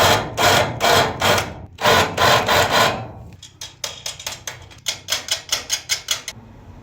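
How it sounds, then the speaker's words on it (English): A larger drill bit grinds against a drilled hole in metal, deburring it, in repeated short rasping bursts, first slower and longer, then quick rhythmic strokes. "I'm just gonna use this bigger drill bit and get rid of those burrs"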